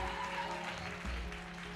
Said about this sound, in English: Can you please again give yourself a big round of applause?